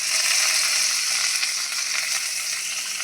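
Onions and curry leaves frying in a pan with a little asafoetida for a ridge gourd chutney, a loud, dense and continuous close-up sizzle with no talk.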